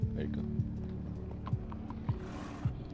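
A horse in the video game Minecraft Story Mode clip-clops at a slow, even walk, with a soft hoof knock every half second or so under low background sound.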